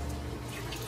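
Water rushing steadily through reef aquarium plumbing as the flow is restored after a water change, a continuous broadband gush with a dripping, faucet-like splash, close and fairly loud with no talk.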